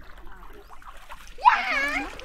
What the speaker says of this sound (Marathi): पाणी नको उडवू त्याच्यावरती प्लीज.